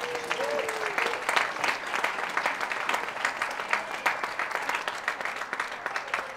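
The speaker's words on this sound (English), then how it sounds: "Can we yet again give them a round of applause?" Steady, fairly loud applause from the audience at a school secondary sports awards ceremony in Bangkok, with dense clapping throughout and faint voices underneath.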